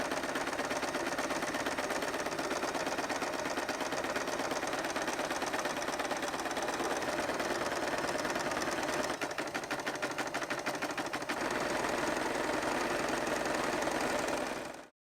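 A sewing machine runs steadily, stitching all around a larger piece of scrap fabric laid over batting. Its loud, continuous mechanical whir carries on without pause for the whole stretch, with no talking.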